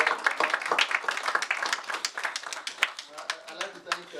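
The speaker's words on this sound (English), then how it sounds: "Let's clap." An audience at a Labour Party rally in Washington DC claps steadily and densely throughout, a close, continuous patter with no pauses.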